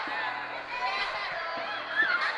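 A big, restless crowd murmurs and calls out in the stands at a Friday night York vs NTG hockey game, a steady distant din under a commentator's voice.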